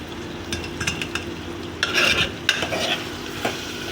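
Onions frying with garlic and ginger in a pan, tomatoes going in, while a utensil stirs and scrapes; a steady close sizzle runs under clacking strokes, with a brief louder burst near the middle.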